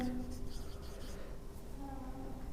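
Chalk or marker scratching on a board during a Class 10 maths lesson on circle areas, steady scraping strokes under a low room hum, with a teacher's voice faintly present.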